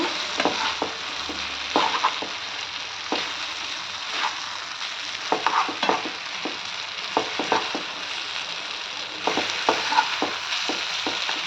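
Stuffed brinjal (gutti vankaya) frying in a pan, a steady close sizzle broken by frequent clicks and scrapes of stirring at an irregular rhythm, no talking.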